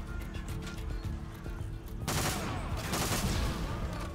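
Dense rapid gunfire in the video game Warzone, a loud continuous fusillade that swells into heavier bursts midway, heard alone with no voices.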